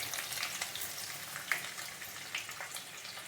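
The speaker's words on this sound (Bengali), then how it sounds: "আমি তেলের মধ্যে দিয়ে দিচ্ছি কিছু পরিমাণ আদা কুচি, কিছু পরিমাণ রসুন কুচি।" Chopped ginger and garlic sizzle in hot oil for chili chicken, a close, steady frying hiss dotted with sharp crackles and pops, with no voices.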